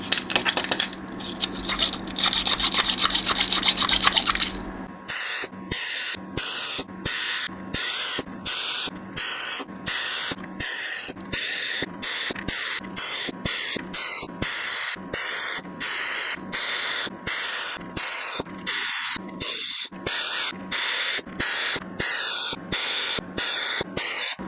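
Cleaner sprayed into a blocked nozzle while repairing a 1986 Sinclair Spectrum+2: a steady hiss for about five seconds, then a long run of sharp, evenly spaced short spray bursts, loud and close, with no talking.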